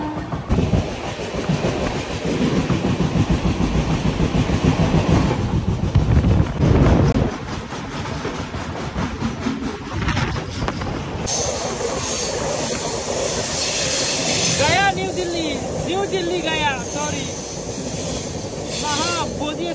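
An express train rushes past at high speed on an Indian railway line, a loud, close roar of wheels clattering and rumbling on the rails with hissing air, while someone talks over the din.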